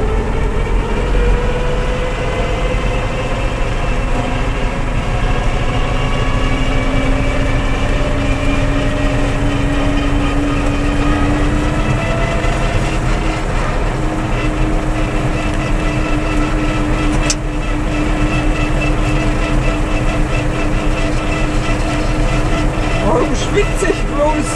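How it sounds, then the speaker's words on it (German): An IHC tractor mowing on a steep hillside gives a loud, steady engine drone with a constant low rumble and layered tonal hum that runs unbroken throughout. "Ich mähe jetzt auf alle Fälle weiter."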